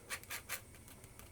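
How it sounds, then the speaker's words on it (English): Flour pushed through a kitchen sieve for brownie cookie dough gives soft, faint rhythmic rasping and scraping strokes, about five quick rubs in a row. "this will allow me to break up any little lumps just by pushing that through the"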